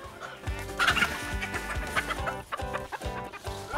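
Chickens cluck steadily at close range on a Texas farm, several birds overlapping in short, choppy calls with a few louder squawks, and no talking.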